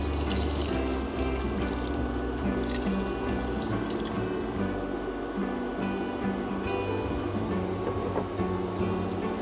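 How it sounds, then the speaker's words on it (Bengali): Coconut milk poured into a pan of pointed gourd dolma, a continuous liquid pouring and dripping sound with a low steady hum beneath, close and fairly even throughout. "আমি বাদবাকি যে নারকেল দুধগুলো আছে সেগুলো সব দিয়ে দিব।"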